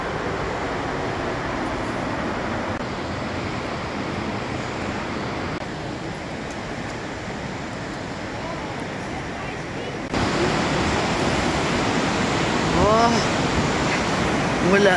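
Broad, steady roar of the Rhine Falls near Zurich, a wide waterfall of rushing water, heard continuously and fairly loud throughout, swelling a little louder in the final seconds.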